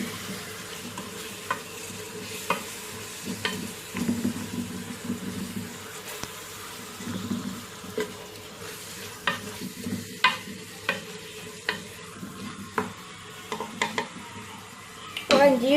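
Coconut toasting in a pot, stirred with a spoon that scrapes and taps against the pot over a soft, faint sizzle in a home kitchen.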